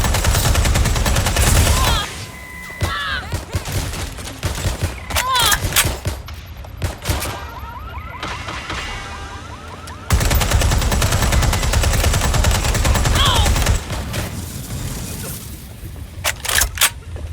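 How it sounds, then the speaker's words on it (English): Loud, dense gunfire from the video game Watch Dogs Legion, with rapid bursts and shots stacked over game music and effects, and brief voice lines in between. "Careful! Shots fired!"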